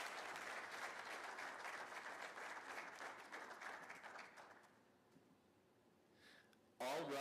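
Applause from a conference audience at an ENT medical meeting, a dense patter of clapping that holds steady for several seconds, then thins and fades out, with a brief louder burst of noise at the very end.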